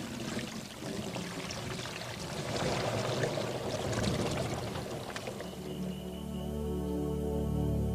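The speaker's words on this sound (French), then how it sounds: "les douches qu'on improvise grâce à un seau suspendu" Water pours from a suspended bucket used as an improvised outdoor shower, a steady splashing rush that swells and continues for several seconds, fairly close, with a low hum joining toward the end.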